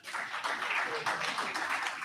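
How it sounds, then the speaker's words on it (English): An audience at a forum bursts into a big round of applause, dense and even clapping from many hands in a room, sustained throughout the short stretch. "a very big round of applause."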